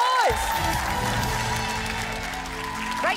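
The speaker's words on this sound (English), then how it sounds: "Give them both a round of applause." An audience claps for two school teams on a children's quiz show, steady applause beneath a musical sting and tones that sweep in at the start and end.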